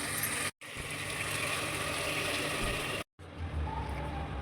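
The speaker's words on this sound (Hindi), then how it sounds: "अब मैं थोड़ा पानी ऐड करके इसे सीटी लगा देती हूँ" Water gushes steadily into a cooking pot of browned meat and tomato that is about to be pressure-cooked, a close, continuous pour broken by two brief pauses.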